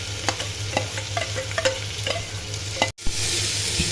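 Garlic, onion and ginger hit hot mustard oil that already holds crackled cumin, giving a steady sizzle with repeated scraping stirs of a spoon, close by, then a brief cut and a louder, brighter sizzle.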